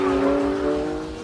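A car driven hard on roads near Swindon gives a loud, close, sustained engine roar for a brief moment, with no talking.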